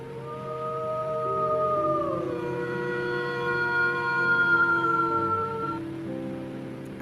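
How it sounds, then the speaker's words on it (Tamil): A fox howls in a long, sustained, wavering cry with shifting pitch, continuing for several seconds as a single drawn-out call without pause. "நரி ஊளையிடும்"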